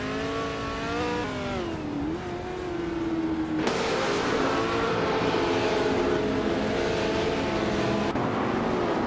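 Lotus 70 race car engine in a racing video game, a loud continuous whine rising and falling in pitch with gear changes, a sudden shift to a harsher roar midway, no talking.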